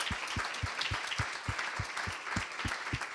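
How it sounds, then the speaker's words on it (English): Audience applause with steady, dense clapping throughout, closing a talk on international student mobility at a conference venue; moderately loud and even, with no voices over it. "I think all of them have deserved a round of applause."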